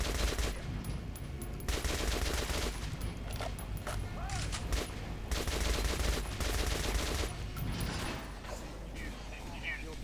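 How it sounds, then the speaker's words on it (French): Gunfire in the video game Metro Last Light while shooting at a mannequin, with dense rapid machine-gun bursts and mechanical clanks filling the clip, loud and continuous, and someone talking over it. "tire dans la tête du mannequin"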